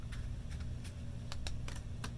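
A deck of playing cards being faro shuffled, with a run of short, crisp riffling snaps spaced unevenly across the moment, heard close and fairly quiet over a low background hum.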